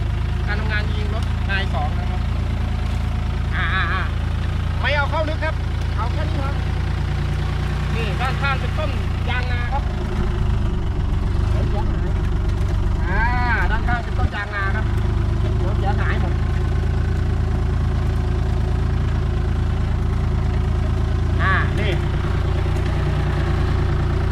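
A Mahindra 40 hp tractor engine runs loud and close in a steady low rumble throughout, under intermittent talk from a man nearby.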